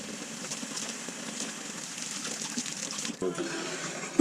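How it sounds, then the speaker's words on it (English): Running tap water while hands are washed in a home kitchen, a steady close splashing stream that continues to the end. "Wash our hands again."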